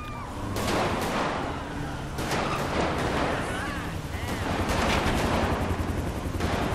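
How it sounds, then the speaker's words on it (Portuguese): Gunfire from inside a car in the GTA 5 video game, bursts of shots crackling over a dense, loud mix of engine and crash noise, with a few sharp peaks standing out across the stretch. "Ó, tá atirando de dentro do carro."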